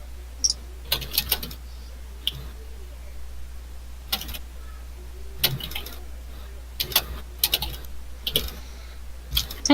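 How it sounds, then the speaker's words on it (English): Loud typing on a computer keyboard, irregular bursts of sharp clicking keystrokes close up over a low steady hum. "Sorry, my keyboards are so loud."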